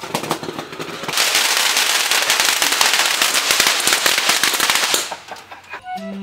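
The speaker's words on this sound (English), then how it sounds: "I blew off a couple of fireworks on the front porch." Fireworks set off on a front porch: a dense, loud barrage of crackling firecracker pops that runs for several seconds and then cuts off, leaving quieter background noise.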